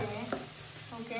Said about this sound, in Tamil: வெங்காயத்தை கொஞ்சம் பொரிச்சிட்டு எண்ணெயில போட்டு பொரிச்சிட்டு